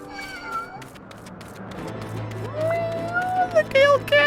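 A Gale Cat creature in Final Fantasy XIV lets out rising and falling meows, growing louder and more strident toward the end, over faint game background sound while a person talks.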